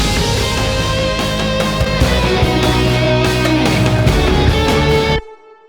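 A dense, loud full-band music mix with pounding drums, squashed and slightly crunchy from heavy L2 limiting, cutting off abruptly near the end.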